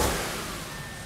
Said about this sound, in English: So I'm going to rev it up.